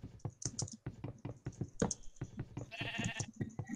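Sheep in Minecraft bleat in short nasal calls amid a busy run of quick clicking and tapping game sounds, close and fairly quiet, with a buzzier stretch near the end.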